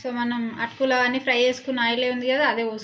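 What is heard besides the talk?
No everyday noises stand out.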